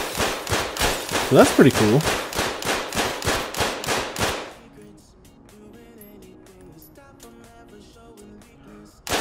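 HK416 rifle gunfire in Ready Or Not: a rapid, loud automatic burst of about a dozen evenly spaced shots, followed by quieter game ambience while someone talks.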